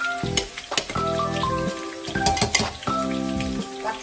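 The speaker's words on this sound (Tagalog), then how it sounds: "Habang linuluto ko ito, takpan ko muna ito." Goat kaldereta stew cooks in a pot, giving a steady close sizzle and bubbling with occasional stirring clinks, while a melodic tonal backdrop plays throughout.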